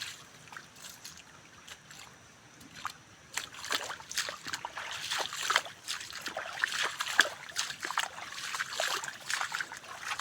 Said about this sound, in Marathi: पाटाचं पाणी बघा